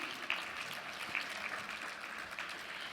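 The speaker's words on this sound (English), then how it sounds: "let's give them some energy with a warm round of applause as they come in" Steady applause from a conference audience as panelists come in, a continuous patter of clapping at moderate volume with a few sharper claps standing out.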